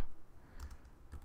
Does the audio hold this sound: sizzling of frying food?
no